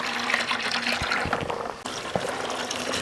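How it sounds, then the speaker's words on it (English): Steady rush of filtered water pouring from a small drinking hose on a Clearsource Nomad filtration system, a continuous close hiss with no talking. "we've got good water flow here"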